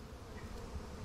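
Bees in the video game Massive Chalice give off a faint, steady buzzing drone, with a brief louder thump near the end and no voices.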